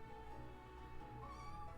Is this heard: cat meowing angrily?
yes